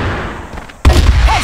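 A video game grenade goes off with a sudden loud boom just under a second in, after a quieter stretch. A rumbling tail follows.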